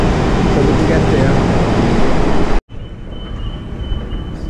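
Subway train pulling into a Manhattan station, a loud, steady roar of wheels and rumble that cuts off abruptly, followed by quieter station hum with a faint high whine.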